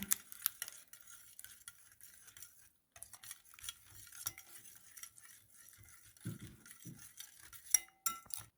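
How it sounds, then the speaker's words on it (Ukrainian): A whisk clinks and scrapes quickly against a bowl, beating batter for eggplant sandwiches, faint and close, in a steady patter of light metallic taps. "Підбиваємо вінчиком і вливаємо пів стакана вершка або сметани."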